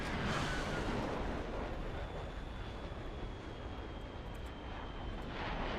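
A fixed-wing aircraft engine in a flight video game gives a steady broadband roar with a faint constant whine on top. It drones evenly and fairly quietly throughout, with no voices.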